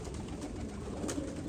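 Pigeons coo faintly in the background, low murmuring calls half buried in a steady broadband hiss.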